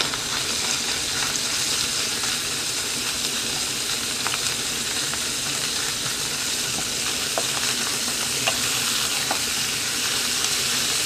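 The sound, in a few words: minced pork stir-frying in hot oil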